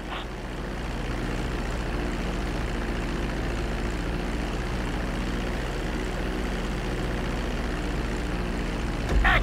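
Airplane landing on a runway in GTA V: a continuous loud engine and rolling roar that holds steady throughout, with a brief bump at the end.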